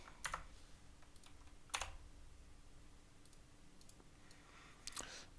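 Faint typing on a computer keyboard, a few scattered sharp clicks and short bursts of keystrokes in an irregular rhythm, quiet and close against a low background hum.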